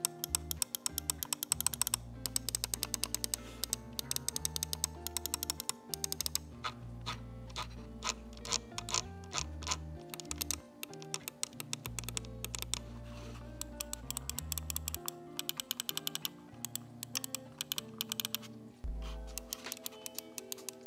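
Clicks from the buttons of a Corsair Katar Pro Wireless gaming mouse: rapid, crisp, close taps in irregular bursts with short pauses, quiet and alone over faint background music.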